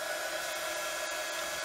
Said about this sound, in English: It's not a hairdryer, it's a heat gun.